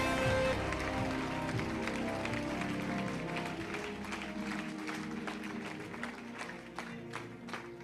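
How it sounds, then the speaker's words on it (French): Church congregation clapping and shouting praise to the Lord, a steady wash of many hands and crowd voices filling the room, loud at first and easing slightly toward the end. "Clap your hands and give the Lord a shout."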